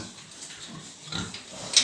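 Low, rough grunts from two large pigs on a farm come in short bursts close by, with some scuffling noise between them and no talking.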